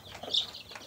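About 300 Sonali breed chicks peep faintly on a poultry farm during brooding, a brief patch of soft overlapping chirps.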